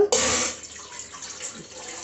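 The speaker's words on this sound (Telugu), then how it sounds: "ఒక గ్లాసు వాటర్ పోసుకున్నాము" A short, loud gush of water poured into a quarter-seer glass, quickly tapering to a quieter trickle, heard up close.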